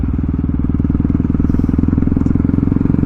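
A Kawasaki 636 motorcycle engine runs steadily close by, a loud, rapid, even pulsing throb with a rough clattering edge and no voices.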